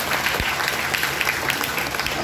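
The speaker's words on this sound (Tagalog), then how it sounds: "Palakpak naman" Applause at a Department of Justice anniversary ceremony in 2019, a steady dense wash of clapping that fills the whole stretch at an even level.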